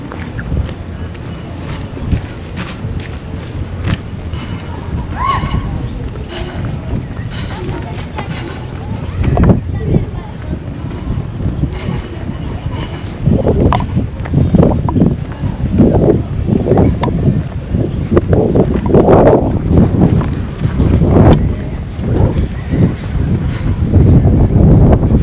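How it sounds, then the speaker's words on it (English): Strong gusty wind buffets an open outdoor field near a football pitch in Abuko, The Gambia, roaring and thumping against the microphone in uneven bursts that grow stronger later. "it's windy out here today."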